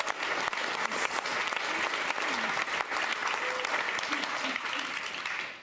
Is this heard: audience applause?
yes